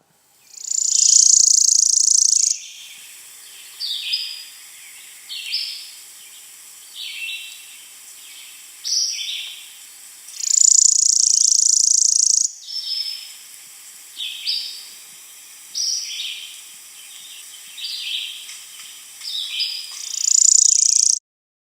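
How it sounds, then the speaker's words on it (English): A worm-eating warbler sings high, dry insect-like trills that repeat in bursts through a quiet background, some longer buzzy runs alternating with shorter chippy phrases, with no talking. "The worm-eating warbler has a rapid, dry trill, often sounds like an insect."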